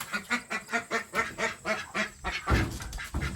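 Domestic ducks in a homemade chicken coop quacking in a steady rhythmic run of about a dozen loud, close calls, with a burst of rustling and bumping near the end.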